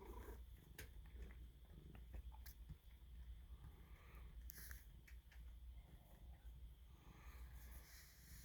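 A cat purring up close, a soft, steady low rumble with faint scattered clicks and rustles, heard alone without talk.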